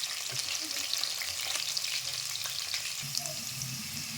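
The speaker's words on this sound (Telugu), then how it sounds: "పచ్చిమిరపకాయలు వేసుకున్నాం ముందుగా వేసుకోవాలి" Green chillies fry in hot oil in a pan, a steady moderate sizzle with soft stirring sounds, fairly quiet and unbroken.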